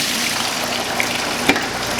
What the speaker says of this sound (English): I'm just going to use this bucket to drain out the sanitizer water.